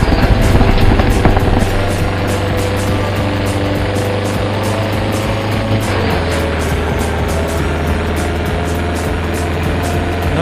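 A car engine in the FR Legends drifting game revs through turn 3 on the Gunsai track, a loud continuous buzzing drone that shifts pitch partway through.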